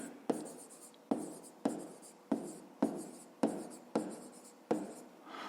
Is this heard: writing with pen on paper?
yes